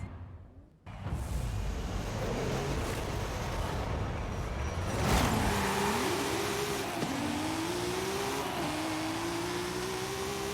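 A 1600 HP 1998 Toyota Supra with a drag tune in Forza Horizon 5 launches and accelerates hard, its engine note climbing through the gears with a loud, steady roar after a brief quiet start.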